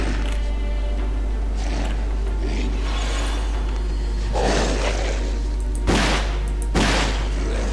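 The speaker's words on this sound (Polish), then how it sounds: "jeszcze jeden strzał i będzie po nim" A few sharp video game gunshot bursts from Alone In The Dark, in a subway setting, ring out over a steady electronic hum, with a couple of louder shots near the end.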